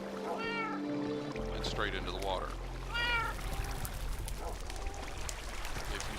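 Cats in Minecraft let out several short, rising meows near the start, mixed with trickling water and game ambience while someone narrates over them.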